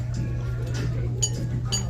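Glasses clink together in a toast, two light, quick chimes over a steady low hum of room noise.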